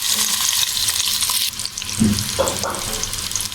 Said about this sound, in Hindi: ऑयल गर्म हो चुका है। अब हम इसके अंदर प्याज शामिल कर देते हैं।